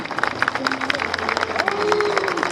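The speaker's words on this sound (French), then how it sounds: "on va faire 1 minute d'applaudissements tous, toute l'aréna" A packed arena crowd applauds at a Bargeots gathering, with scattered clapping, cheers and murmuring voices blending into a steady, moderately loud wash that swells slightly toward the end.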